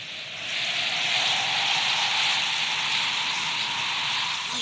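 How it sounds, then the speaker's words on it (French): Steady rain hiss during a thunderstorm, a broad continuous wash that swells in the first half-second and then holds loud and even, with no voices. "il commence déjà à pleuvoir"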